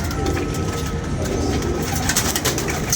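A flock of about twenty-two domestic pigeons takes off after release, with steady close wingbeat flutter and scattered coos over constant outdoor background noise, no talking.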